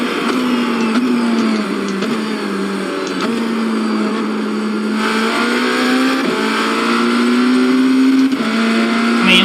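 A BMW LMDh race car in a racing video game howls at high revs through repeated upshifts, a loud, sustained engine whine with brief dips at each gear change and no talking.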